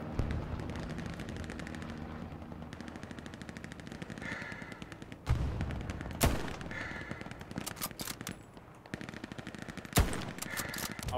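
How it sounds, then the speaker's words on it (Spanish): Gunfire in the World War II shooter Hell Let Loose: sustained machine-gun bursts and scattered rifle shots, with several louder close cracks standing out over a constant distant battle din. "me están disparando aquí al último cogollico donde estaba"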